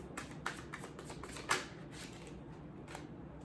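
Tarot cards are shuffled in a quiet room, giving soft riffling and snapping flicks in short irregular bursts, close but faint.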